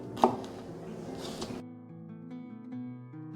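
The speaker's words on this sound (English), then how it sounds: "I'm gonna cut them about this size, little rectangles like this." A knife cuts nopales cactus paddles into small rectangles on a board, giving a few close, crisp chops over about a second and a half before quiet background music takes over.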